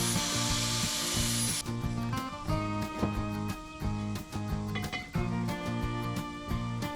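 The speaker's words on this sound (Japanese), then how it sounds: "溶接する部分の黒皮を取って鉄をむき出しにします。" A tool grinds and scrapes black mill scale off a steel muffler pipe for a V8 dual exhaust ahead of TIG welding, giving a rhythmic, repeated rasping with a steady low hum underneath and no voices.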